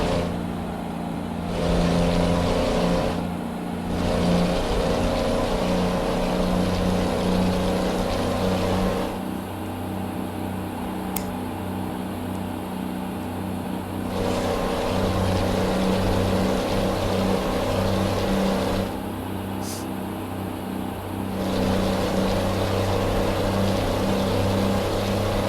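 A truck engine in Euro Truck Simulator 2 hauling a wood chipper, a loud continuous low rumble with a droning hum that rises and dips slightly over time as the engine works, with no voices.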